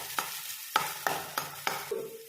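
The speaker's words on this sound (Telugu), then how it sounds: "ఆయిల్ వేడయ్యాక సన్నగా కట్ చేసుకున్నటువంటి అల్లం వేసుకోవాలి" Ginger, garlic and onions fry in hot oil, a steady sizzle broken by five sharp scrapes of a spoon stirring the pan at a regular pace, close and with no one speaking.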